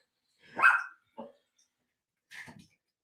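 A dog barks indoors during a live recording: three separate barks, the first loudest and strongest, then a shorter, softer one, and after a pause a final yelping bark, all fairly close with silence between.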